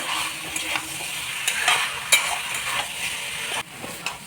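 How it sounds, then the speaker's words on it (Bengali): Jackfruit and potatoes are stirred and fried in spiced oil in a pan, a soft continuous sizzle broken by repeated scraping strokes of a spatula, close and moderately quiet, with no talking. "তো এখন এর মধ্যে আমি এঁচড় আর আলু দিয়ে দেবো। এটা ভালো করে কষে নেব।"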